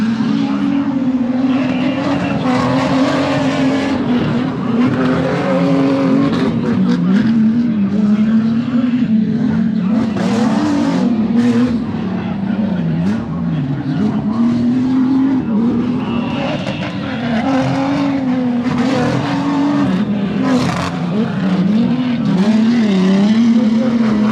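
Race cars roaring around a dirt track at Dirt City Motorplex, one loud engine droning and wavering steadily up close, with crowd noise and a voice talking over it.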